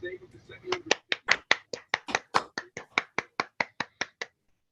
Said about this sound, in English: I'd like to invite the steering committee to unmute with me so we can clap together